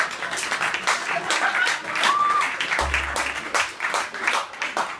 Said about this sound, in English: The round of applause, that's comedy's equivalent to the human orgasm